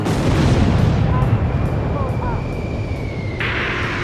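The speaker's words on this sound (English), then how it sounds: "Rimfaxi launching burst missile!" Burst missile launched amid explosions in the video game Ace Combat 5, a dense roaring rumble of blasts and jet noise with a rising whistle, under game radio chatter.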